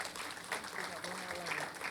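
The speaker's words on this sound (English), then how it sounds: "Let us clap for that list." A roomful of people claps at a docent guild's fiftieth anniversary celebration at a museum, a brief, moderate burst of applause with some voices mixed in.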